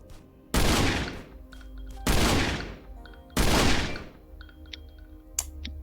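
Gunfire in the survival video game Last Island of Survival: three loud, separate shot bursts about a second and a half apart, each with a quick decaying tail, followed by faint clicks.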